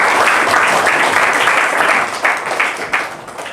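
Classroom applause for a classmate, a dense steady burst of many children clapping at once, loud and close, fading slightly toward the end with a few sharper claps standing out.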